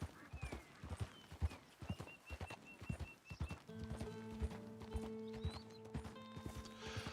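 A horse's hooves clip-clop steadily in Red Dead Redemption 2, a close, rhythmic trot with a brief whinny, later joined by soft background music.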